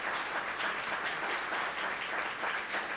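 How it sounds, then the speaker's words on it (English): A conference audience at the Lessons and Legacies XIV keynote gives sustained applause, an even, moderately loud patter of many hands clapping with no speech over it. "Let's give them a round of applause."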